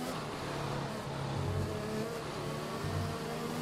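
A Formula 1 race car engine on a straight in the video game F1 2021 gives a steady, sustained whine with slight pitch shifts, continuous and fairly loud, with no speech over it.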